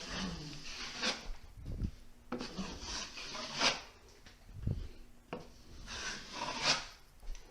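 A trowel or knife skims joint compound across drywall in a skim coat, giving soft rasping scrapes in repeated strokes with short pauses between them, close and fairly quiet.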